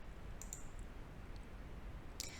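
A computer mouse clicks on a card in a scheduling app, giving a few faint, sharp clicks in two small clusters over a quiet hiss.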